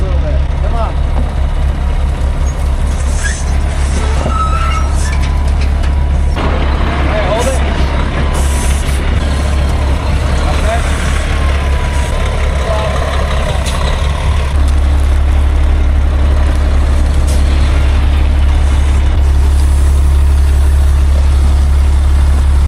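An old truck stuck in sand is pulled free, its engine idling and straining at close range for the whole stretch with a steady low rumble, alongside rustling and clatter; people talk over it.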